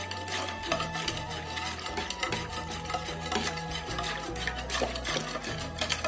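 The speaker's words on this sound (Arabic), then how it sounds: "هنقلب بقى جامد لغايه ما الجيلي" Continuous stirring and scraping in a pot of jelly mixture in hot water, a steady rhythmic swishing and rasping with faint clinks, close by and without voices.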